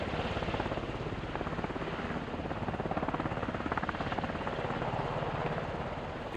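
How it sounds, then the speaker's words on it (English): An HH-60 Pave Hawk helicopter holds a steady hover at 20 feet during a rescue squad rappelling exercise, its loud, continuous rotor chop and turbine roar pulsing evenly throughout, close by and with no voices. "that is a 20-foot hover, and he is holding that helicopter absolutely still"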